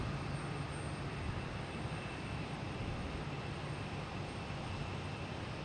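A Spirit Airlines jet comes in to land at Boston Logan Airport, a steady broadband engine roar heard from a distance, with no voices.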